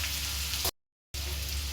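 Onions and chillies fry in hot oil, giving a steady close sizzle. The sizzle cuts out completely for a short moment and then resumes just as before.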